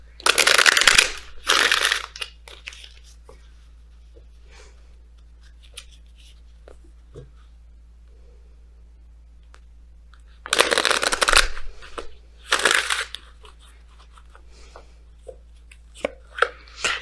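Messenger oracle cards shuffled by hand in two loud, riffling bursts, one at the start and one near the end, separated by quiet stretches of faint handling clicks.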